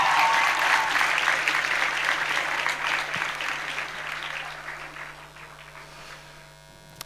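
Audience applause after a music performance at a festival in Cabella, Italy, dense clapping that gradually thins and fades over several seconds, with a steady low electrical hum running underneath.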